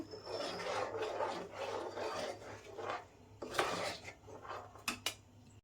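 Plum cake batter being stirred in one direction in a bowl, giving a soft, continuous scraping and rubbing with a few sharper clinks near the end, close and fairly quiet, with no voices.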